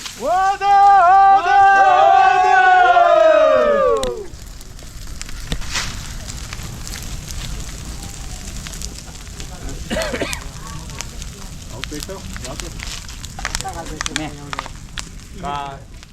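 A Holi bonfire burning in a village in Konkan, a soft continuous crackle with scattered pops, heard after a loud sung or chanted passage and under occasional voices nearby.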